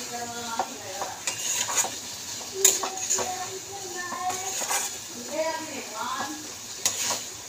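Begun posto (eggplant with poppy seed) being stirred and fried in a pan, a spoon scraping and clinking in repeated strokes over a steady sizzle, with talk between the strokes.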